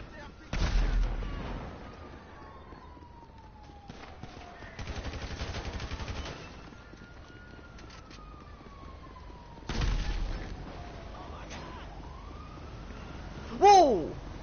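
A vehicle exploding in GTA 5 Online: several heavy booming blasts spaced seconds apart, with artillery-like rumble and descending whistles between them, ending in a sharp rising squeal, all over a quiet game backdrop.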